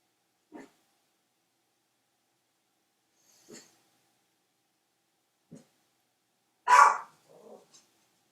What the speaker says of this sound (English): my dogs are barking, sorry about that